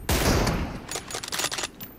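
Gunfire in PUBG during a one-on-one room match with M24 sniper rifles: a loud, close opening blast followed by a rapid burst of rattling shots that trail off.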